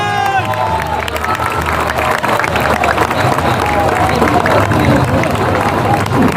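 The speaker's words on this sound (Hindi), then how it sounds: "जोरदार ताली बजाइए।" A large crowd at a political party gathering in India claps loudly and steadily, a dense, continuous applause with some cheering and shouts throughout.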